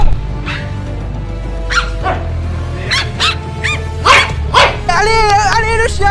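A dog in a park gives a series of sharp, close barks and yips, some whimpering, spaced irregularly with excited people talking around it.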